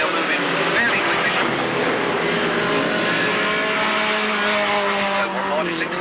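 Race cars at an Alwalton race meeting roar past in a continuous loud engine drone with shifting pitch as the field circulates, while a commentator talks over it.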